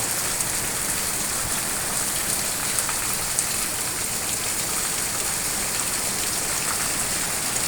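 Heavy cyclone rain from Cyclone Remal pours down in a dense, steady hiss, drops drumming on surfaces without pause, loud and constant with no voices.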